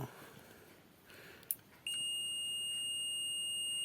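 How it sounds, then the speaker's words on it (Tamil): Multimeter on continuity test giving a steady high-pitched electronic beep that starts abruptly after a faint click and holds unbroken to the end, close and clear over a quiet room. "இதேமாரி ஒரு பீப் சவுண்டு வரும் கண்டினியூட்டி இருந்தால்"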